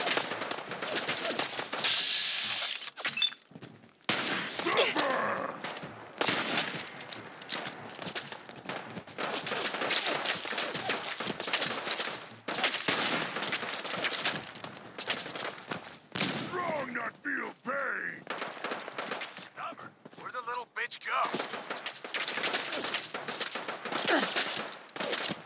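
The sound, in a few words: sniper rifle gunfire in video game Fallout 4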